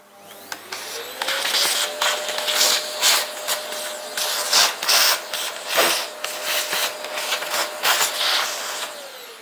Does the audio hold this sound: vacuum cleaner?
yes